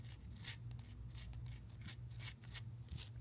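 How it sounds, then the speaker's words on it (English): A cleaning brush scrubs the extractor area of a revolver in quick, rhythmic bristly strokes over a faint background hum, close and fairly quiet. "A nice little scrub down of our extractor area."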